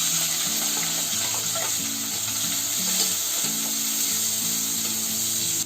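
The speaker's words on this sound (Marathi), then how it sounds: "आता इथे बघा आपला कांदा फ्राय होतोय" Finely chopped onions frying in hot oil with cumin seeds in a pan, a continuous close hiss and crackle with a faint hum underneath, steady and unbroken.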